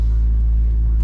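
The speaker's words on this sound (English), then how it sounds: "I'm going to start these motors up" Boat motors on a Seasport Kodiak 2600 rumble steadily at close range, a loud, deep, continuous drone in a very brief stretch with no talking.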